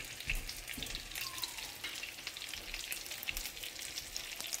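Homemade chicken patties fry in a pan over lowered heat, giving a steady, close sizzle with light crackling and a few soft stirring or shifting noises throughout.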